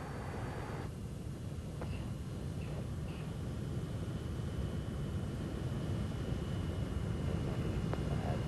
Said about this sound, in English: now let's look backwards from the leader's aircraft as the aircraft rejoin him in the join-up loop